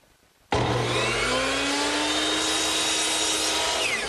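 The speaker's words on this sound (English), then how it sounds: "over here at my miter box, I've turned it to 45 degrees" A miter saw set to 45 degrees cuts corners off oak for a child's wagon: the blade whines up abruptly and runs steadily through the wood, loud and close, with no talking.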